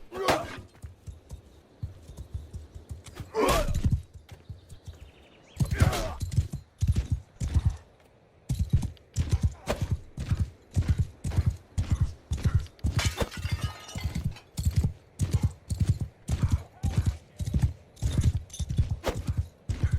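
Horse hooves in Mount & Blade II: Bannerlord clip-clop in a steady, quickening rhythm, crisp and close, after a few scattered heavier thumps at the start.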